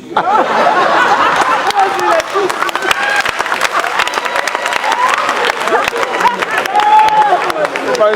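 An audience claps in a dense burst of applause, with scattered laughter and chatter mixed in and voices talking over it throughout.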